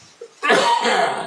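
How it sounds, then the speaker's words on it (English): A single harsh, broadband cough burst up close, following a brief throaty catch, loud and lasting about a second. "Get that doggone cough up"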